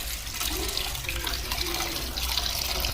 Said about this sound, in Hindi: चलिए अब इसको साफ पानी में धो लेते हैं।